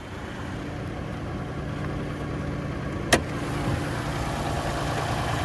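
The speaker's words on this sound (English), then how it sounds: "And there's that hybrid V6." The hybrid V6 engine of a 2022 Lexus RX 450h idles with a steady low hum, joined by a single brief sharp click partway through.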